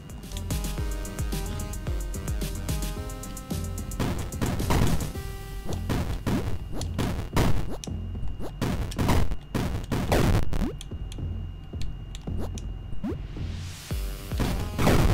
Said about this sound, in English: Weirdly, the explosions of barrels and stuff does seem to hurt enemies.